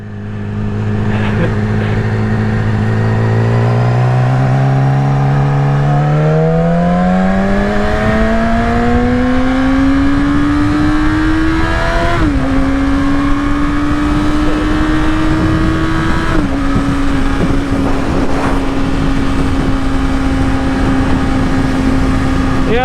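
A 2016 Yamaha R6 motorcycle engine under way, its loud whining tone climbing steadily through the gears with brief dips at shifts, steady wind rush underneath.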